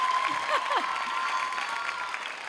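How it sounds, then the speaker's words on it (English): Applause and cheering from a Showquest 2018 crowd, steady clapping with a few high whoops and shouts near the start, easing slightly toward the end. "Massive round of applause before I kick into it."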